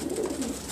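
A pigeon coos faintly and low, a soft, continuous murmur with no talk over it.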